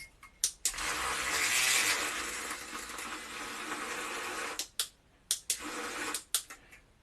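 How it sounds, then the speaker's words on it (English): An electric whisk whirs in a cup of hot liquid: a long steady motor buzz for several seconds, then stops and gives a string of short on-off bursts near the end. "We're going to whisk this up."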